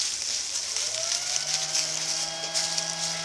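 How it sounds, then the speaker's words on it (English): An inverter cooling fan spinning up in a kitchen during bread baking with a pressure cooker, a steady airy whir with rising tonal hum as it gains speed, continuous and fairly close. "That noise you hear is the inverter, the fan coming on it"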